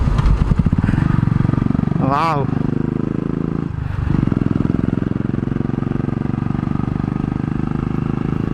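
A Royal Enfield Bullet motorcycle climbs a hill road toward Yercaud, its engine droning loud and steady throughout, close to the microphone, while a rider briefly exclaims partway through.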